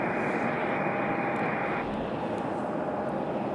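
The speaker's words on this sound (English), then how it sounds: "There it is. There's our A220." An Airbus A220 airliner at Raleigh-Durham airport gives a loud, steady jet roar that fills the whole stretch, broadband and unbroken, with no voices over it.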